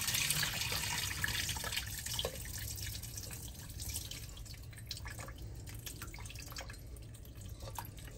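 Rinsed white rice being drained, with water trickling and dripping steadily from a pot or strainer into a sink, close and continuous with no talking.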